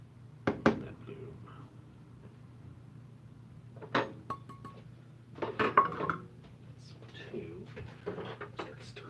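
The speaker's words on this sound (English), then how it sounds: "Start stirring this. Getting it all mixed in." Bread dough stirred in a bowl in a home kitchen, with scattered clinks and knocks of a utensil against the dish, irregular and fairly close, and a voice speaking briefly in between.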